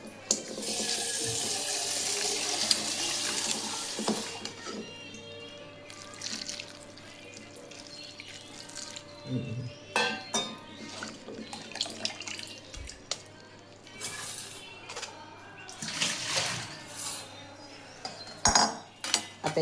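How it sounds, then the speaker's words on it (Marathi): Cold tap water runs over soaked soybean chunks in a kitchen sink, a steady gush with clinks of a utensil and bowl, then intermittent splashes and scrapes as the chunks are rinsed; no talking. "आता त्याच्यावर आपण चांगलं गार पाणी टाकून घेऊया। चांगली स्वच्छ धुवून घेऊया।"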